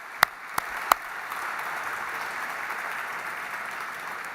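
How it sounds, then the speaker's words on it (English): An evening event audience applauds a guest author and historian, with a few sharp claps at the start swelling into a steady, diffuse wash of applause. "Let's give him a big round of applause right now."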